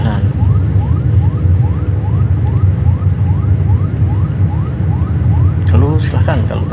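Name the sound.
ambulance siren on a busy city street at night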